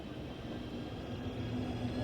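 Class 395 Southeastern high-speed train running in Train Sim World 5, a steady low rumble and hum of the moving train that swells slightly toward the end, with no talk.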